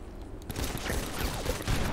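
Rapid overlapping gunfire from rubber-bullet guns in a GTA roleplay police exam, a dense crackling volley of shots that continues steadily throughout.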